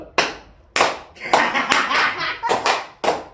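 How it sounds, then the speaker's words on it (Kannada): A handful of people clap in short, separate bursts during a spicy chip challenge, with loud, close claps spaced irregularly and brief voices and chatter between them. "ಸಾವಿರ ಸಾವಿರ ಚಪ್ಪಾಳೆ"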